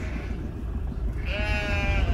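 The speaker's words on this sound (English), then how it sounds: "Lots of sheep." A sheep bleats once, a wavering, drawn-out cry heard at moderate distance over a steady low rumble of outdoor background noise on a hilly country road.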